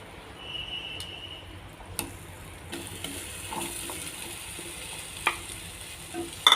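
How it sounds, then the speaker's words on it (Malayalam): Banana pieces sauté in melted butter in a pan, a soft steady sizzle with occasional stirring scrapes and light clicks, close and moderately quiet, no voices. "പിന്നെ ഈ ബട്ടറിലൊന്ന് നന്നായിട്ടൊന്ന് വഴറ്റിയെടുക്കാം"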